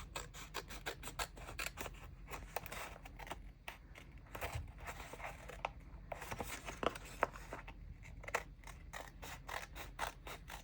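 Scissors cut the corner of a notebook page in a bullet journal, a faint, close series of quick snips and rasping paper rubs repeating throughout, with no talking.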